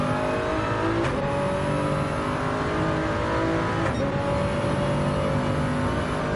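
A Toyota Supra GT3 race car at Laguna Seca climbs through the gears, its engine whine rising steadily with two sharp shift breaks, loud, close and continuous with no talking.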